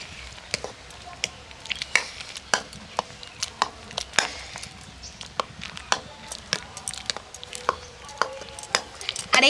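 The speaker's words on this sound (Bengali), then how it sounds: "এটার সাহায্যে আমটাকে এই জলের সাথে এইভাবেই ঘেঁটে নেব।" Soft boiled raw mango mashed into water in a bowl with a utensil, a close series of irregular wet squishes and sharp taps against the container, steady and fairly loud.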